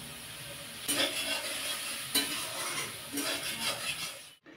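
Spice paste with chilli and cumin powder and a splash of water is stir-fried in a pan. Repeated scraping strokes of a spoon sound over a steady gentle sizzle, then stop abruptly near the end.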